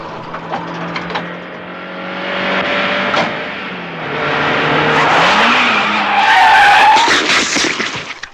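A car skids on a road in a Dario Argento horror film scene, with a loud sustained tire squeal over a droning engine tone that swells and bends for several seconds.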